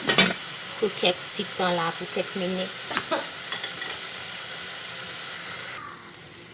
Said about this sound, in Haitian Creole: Pendant qu'il a bien frit